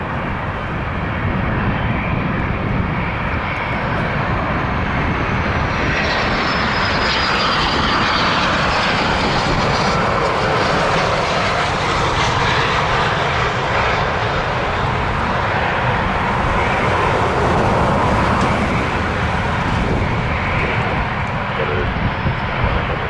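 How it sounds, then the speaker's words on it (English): A Cessna 560 XL Citation business jet coming in to land low overhead at Toronto Pearson, a loud continuous engine roar filling the whole stretch and swelling slightly as it passes close above. "Cessna 560 XL Citation coming in from Brunswick"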